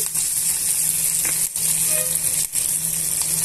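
Garlic and curry leaves sizzle loudly in hot oil, a dense continuous hiss close up with brief dips and a few faint clicks, no voices over it.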